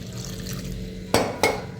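Two short splashes of water pour into a metal pressure cooker holding greens, each a brief gush over a low background hum.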